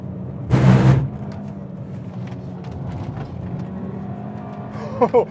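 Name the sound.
Mk5 VW Golf GTI driving fast on track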